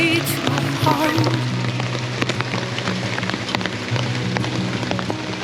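Rain pattering steadily on surfaces around a family minivan camper at a campsite, a dense continuous patter with scattered louder drops, a faint voice briefly audible early on.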